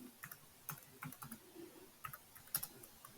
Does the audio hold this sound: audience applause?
no